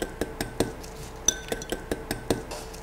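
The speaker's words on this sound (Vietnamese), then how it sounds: "Khuấy đều hỗn hợp này lên." Eggs beaten with a spoonful of annatto oil in a small bowl, the utensil striking the bowl's side in a quick run of light, close clinks, roughly ten taps with short gaps, no voices.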